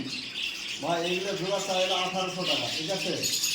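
Java sparrows chirp steadily in the background while a person talks over them, the voice close and the chirping continuous.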